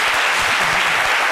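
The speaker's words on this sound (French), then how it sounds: "derrière nous, qu'on applaudit également" Dense, loud audience applause fills a television studio during a show about Zouglou music, a steady wash of many hands clapping with no pauses.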